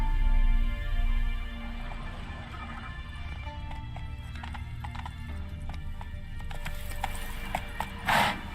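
Hooves clip-clop steadily as a horse gallops in The Witcher 3, ending with a short whinny; no talking.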